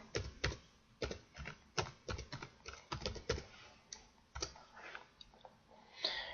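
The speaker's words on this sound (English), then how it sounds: "I'm going to type in my first address" Fingers type a web address on a computer keyboard in uneven bursts of crisp, close key clicks separated by short pauses, with no talking.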